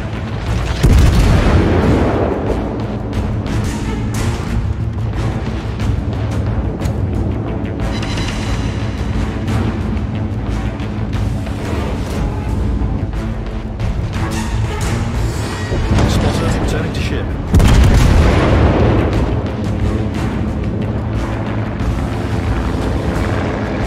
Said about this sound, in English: Concentrate fire on the enemy warship.